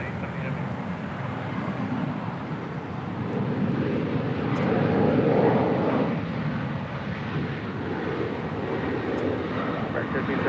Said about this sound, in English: That is Alaska Airlines Flight 829 departing to Kahului